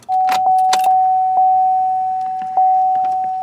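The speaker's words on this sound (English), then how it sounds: "turn the ignition to accessory" Car keys jangle and click as the key turns in the ignition to the accessory position, with a steady, sustained chime ringing underneath the metallic rattles.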